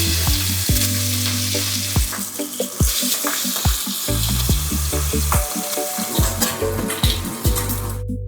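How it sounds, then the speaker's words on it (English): Bacon fries in a hot pan with a steady, loud sizzle and crackle, broken by repeated close metallic knocks and scrapes of a utensil against the pan. "Our pan is nice and hot. Let's get our bacon on and get them nice and crispy."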